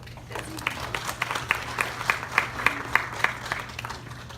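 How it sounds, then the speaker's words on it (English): An audience at a donor luncheon applauds steadily, many hands clapping together in a dense, sustained patter. "we have to give a big round of applause to all of you for that"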